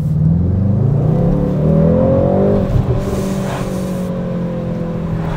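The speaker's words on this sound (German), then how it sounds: "Wir werden jetzt auch ein Stückchen beschleunigen, nur um zu hören, wie sieht es hier soundtechnisch aus." A Mercedes-AMG GT63 S accelerates hard, its engine roaring up through the revs and easing off, recorded close and loud with no talking.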